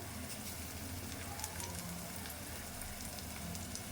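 Onions frying with curry leaves and green chillies for a spicy Telangana-style chicken curry, a steady soft sizzle and crackle from the pan, faint and continuous with no talking.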